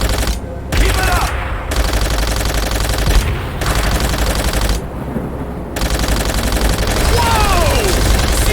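Loud, dense machine-gun fire and sustained bursts ring out in a Call of Duty: World at War campaign mission set among Black Cats aircraft, with brief gaps and shouted voices over the shooting.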